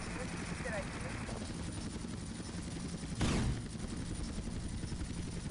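A helicopter in GTA Vice City whirs continuously in a loud, steady mechanical drone, with a brief burst of clattering gunfire partway through.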